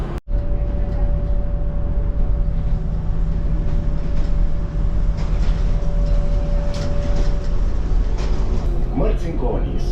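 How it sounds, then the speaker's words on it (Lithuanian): A passenger train rolls along steadily near its final station, with a loud, constant rumble and hum throughout and a brief sharp jolt right at the start. "traukinys netrukus atvyks į galutinę maršruto stotį"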